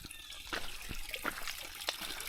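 Clear, ice-cold spring water trickles straight out of the ground along a trail, a close, gentle gurgle with small bubbling splashes and drips popping up irregularly over a soft flow.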